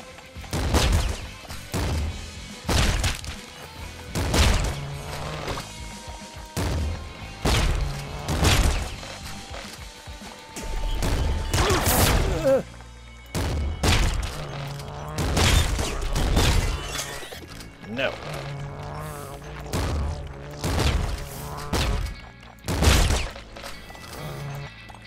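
Flak cannon blasts in the game Nuclear Throne, a rapid run of loud, sharp bursts with shattering, crunching debris and heavy thuds, mixed with other game noises and music throughout.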